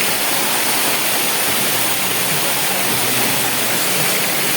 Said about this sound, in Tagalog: andito na tayo sa falls